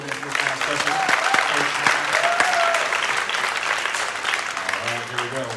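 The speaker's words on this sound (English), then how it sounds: "Let's go ahead and just give a round of applause for the closing of the first round" A large audience at a Black history knowledge bowl quiz competition breaks into sustained, dense applause, with a voice faintly audible over the steady clapping.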